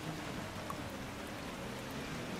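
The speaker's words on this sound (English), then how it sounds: "Clearly, the rain is just too heavy." Heavy rain in a GP3 racing video game, a dense, even wash of rainfall noise with faint scattered drops, steady and moderately quiet, with no talking over it.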